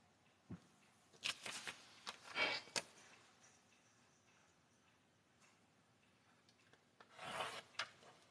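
Trimming a finished quilt block with a rotary cutter and ruler, giving several short scraping and rubbing strokes at a fair distance with quiet gaps between them and no talk.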